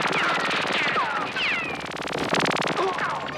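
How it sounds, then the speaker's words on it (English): Rapid bursts of cartoonish movie gunfire effects from the 1983 film Warrior of the Lost World, with whizzing ricochet-like sweeps, a chaotic, busy barrage that continues throughout. "can we take a moment to talk about these gunshot effects?"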